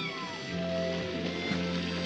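A cat meows clearly and steadily at close range, a drawn-out tonal cry set in a scene from an Italian western film.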